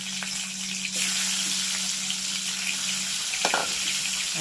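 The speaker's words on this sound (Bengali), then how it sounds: "এবার ডিমগুলোকেও ভেজে নেব" Eggs frying in hot oil in a pan, giving a steady close sizzle with a couple of brief clatters, and no talking.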